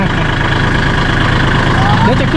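A farm tractor engine idles close by in a field, a steady loud low rumble without breaks.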